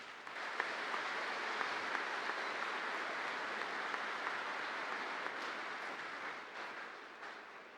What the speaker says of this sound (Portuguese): Então vamos acolhê-lo com uma forte salva de palmas.